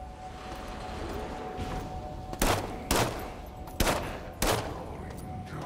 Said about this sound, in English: I can shoot these cameras now too.